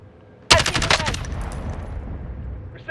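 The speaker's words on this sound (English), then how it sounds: "Receiving hostile fire." Burst of video game gunfire starting abruptly, several rapid loud shots in quick succession followed by a fading rattle, during a match with flashbangs and hostile fire alerts.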